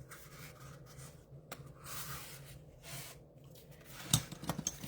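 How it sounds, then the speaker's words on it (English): Patterned paper being burnished down onto a petal pink card base, heard as soft, close rubbing strokes in short passes, ending with a few small taps and clicks. "And let's just burnish that down really well."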